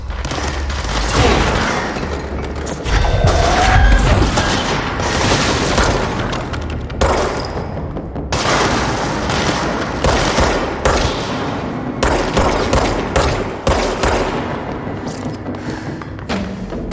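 Gunfire in the video game Control, loud bursts of rapid shots and heavy booming impacts in repeated volleys across the whole stretch, close and punchy with short gaps between bursts.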